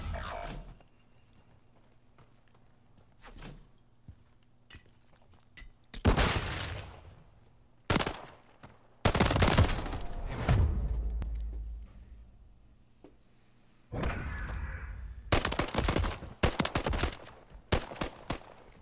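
Pistol fire in a video game comes in several sharp, loud bursts of rapid shots separated by quiet gaps, with distant pops in between.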